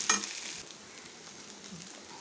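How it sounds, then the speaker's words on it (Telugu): Coriander rice is stirred and mixed in a pan: a sharp clink of the utensil at the start, then soft scraping and a low, faint sizzle that continue steadily at close range. "చక్కగా మొత్తం మిక్స్ చేసేసుకున్నాను"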